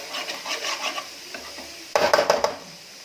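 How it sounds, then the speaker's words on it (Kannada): Egg fried rice fries in oil in a pan, a soft sizzle with a spatula scraping and stirring, then a brief burst of sharp metallic clinks against the pan. "ಈಗ ಇದು ಚೆನ್ನಾಗಿ ಎಣ್ಣೆಯಲ್ಲಿ ಫ್ರೈ ಆಗ್ತಾಯಿದೆ"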